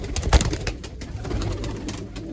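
Pigeons coo softly and repeatedly close by in their coop, low throaty calls overlapping with light rustling.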